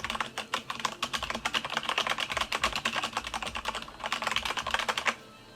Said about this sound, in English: Very, very quiet for a mechanical keyboard.